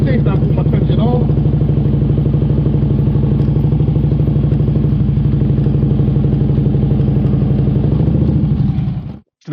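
A motorcycle creeping through a slow U-turn with the clutch held in the friction zone, a close, steady, low chugging engine idle with rhythmic pulses, speech over it at the start, cutting off near the end.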